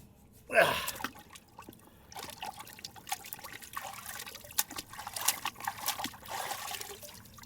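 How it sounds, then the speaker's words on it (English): Running water splashes and trickles over an AR-15 magazine during a torture test, starting with a louder gush and continuing as uneven close dribbling, with a quiet voice now and then. "let's wash this mag off first"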